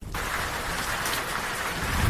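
Steady rain falling outdoors, a dense even hiss of drops hitting surfaces, constant and fairly close for the whole stretch with no voices.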